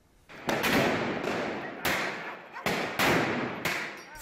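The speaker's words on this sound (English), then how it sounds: "Firing tear gas at protesters in Bolivia on Tuesday" Riot police fire tear gas at protesting doctors in Bolivia, four or five loud, abrupt bursts each trailing into a rushing hiss before the next, fairly close and without speech.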